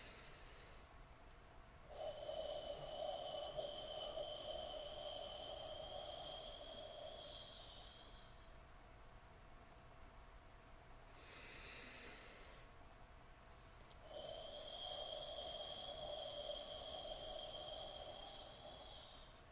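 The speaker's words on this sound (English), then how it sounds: "So they would tell me to breathe like this." Slow, deliberate breaths drawn in and let out in long, steady cycles, two drawn-out airy passes separated by a short quiet gap, close and fairly soft with no talking.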